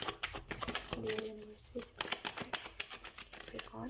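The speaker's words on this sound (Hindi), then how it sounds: "तो सबसे पहले हम कार्ड शफल कर लेते हैं।" Tarot cards are shuffled close by in rapid riffling bursts of papery flutters and taps, while a person talks over the shuffling.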